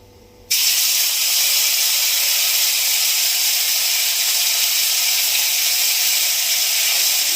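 Cumin paste drops into hot oil for tempering, after the bay leaf and dried chillies, and a loud, sudden sizzling hiss bursts in after a quiet moment, then holds steady and close for several seconds with no voices.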